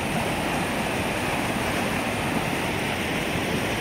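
Constant loud roar of water overflowing a large reservoir dam (açude), a dense steady rush with no pauses or voices.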